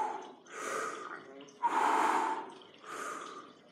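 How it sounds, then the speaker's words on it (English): Slow, deep breaths drawn in and out during a floor stretch in a home workout, three long airy inhales and exhales, close and fairly loud with no speech. "Deep breaths here."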